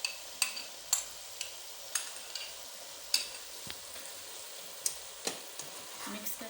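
Spaghetti being stirred in a pan over a full flame as tomato paste and tomato sauce are mixed in, with scattered scraping clicks over a soft sizzle, close and moderately quiet.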